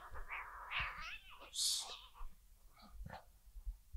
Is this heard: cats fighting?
yes